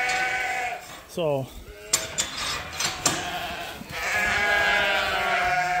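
Sheep bleat inside a barn where they are locked up at night, one clear wavering bleat followed by scattered bleats and barn noise, with a person speaking briefly.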